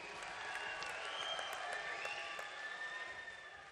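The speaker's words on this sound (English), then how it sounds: "Big cheer goes up for Bettina Lili Cifra of the home nation." Crowd at a women's floor final of a gymnastics World Challenge Cup in Szombathely, Hungary, cheering and applauding for a home competitor, a faint, sustained wash of clapping and whoops heard from a distance throughout.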